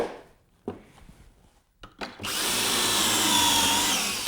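Drilling a pocket hole with a Kreg jig in cabinet frame wood, a few soft clicks and knocks, then a loud, steady drill whir that runs close to the end.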